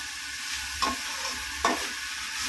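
Ivy gourd sautéing with tomato and coriander in a pan for a kuzhambu: a steady, soft sizzle broken by two distinct scraping stir strokes about a second apart.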